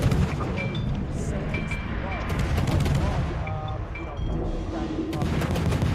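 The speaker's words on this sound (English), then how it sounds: "I got 5 guys shooting at me." Naval gunfire during a World of Warships clan battle, repeated booming shots and impacts in a continuous barrage, with a voice talking over the combat.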